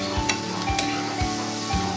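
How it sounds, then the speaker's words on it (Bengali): Bottle gourd frying with turmeric in a pan, alongside onion and chili, gives a steady close sizzle with a few soft periodic thumps of stirring. "এটা ভাজা হতে থাক।"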